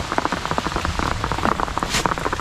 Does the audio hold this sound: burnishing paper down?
no